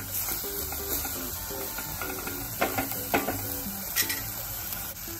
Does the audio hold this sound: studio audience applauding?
no